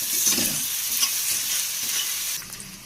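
Ginger-garlic paste frying with onions makes a loud, continuous sizzle, with stirring scrapes in the pan that ease slightly near the end; no voices.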